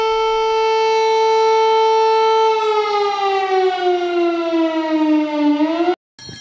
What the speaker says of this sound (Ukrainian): Як ми закінчуємо цей відпуст звуком тривоги